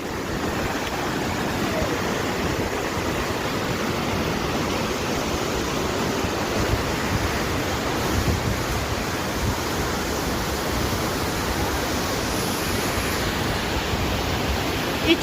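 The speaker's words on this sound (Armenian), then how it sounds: "մոտիկից ցույց տամ ձեզ գետը," A flooded, swollen river rushes past close by as a dense, steady roar of water that stays level and loud for the whole stretch, with no voices over it.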